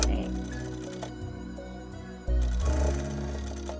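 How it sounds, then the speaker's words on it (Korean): A sewing machine stitching fabric for a hanbok wrap skirt waistband, whirring steadily with fast mechanical ticking, pausing briefly midway and then restarting louder and closer. "시침핀으로 고정하고 박아주겠습니다"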